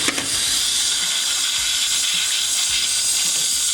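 Steam hisses loudly and continuously from the lifted valve of a pressure cooker of curry goat just taken off the stove, a close, steady release.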